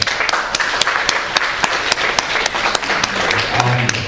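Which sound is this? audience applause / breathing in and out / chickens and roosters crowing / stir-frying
audience applause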